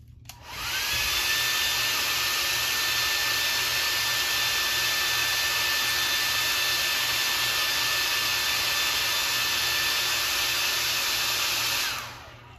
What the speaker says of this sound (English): I'm gonna go ahead and heat set this real quick.